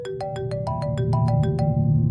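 A phone ringtone for an incoming call, a bright repeating electronic melody of quick plucked notes, loud and steady over a low background hum, with no voices.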